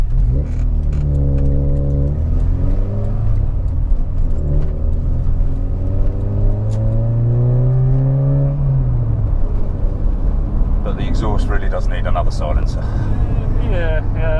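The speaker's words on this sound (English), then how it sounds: "Automatic blipping in the downshifts." A 1983 VW Golf GTI engine revs and blips through downshifts, rising and falling in pitch, with talk over it and wind and road noise building toward the end.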